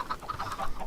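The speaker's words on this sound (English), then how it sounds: "There's so many chickens." A flock of Minecraft chickens gives a quick run of short, clipped clucks in the video game, faint and brief with no talk over them.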